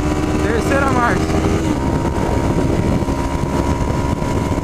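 Honda CB500 motorcycle pulling through third gear, a loud continuous engine drone with a brief rising pitch early on and wind rush, a voice speaking briefly over it.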